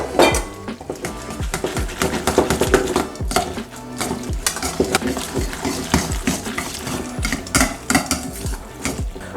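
Fettuccine tossed with parmesan, butter and pasta water in a pan, a steady busy clatter of utensil scraping and clinking against the metal with soft wet stirring, close and continuous, no talking.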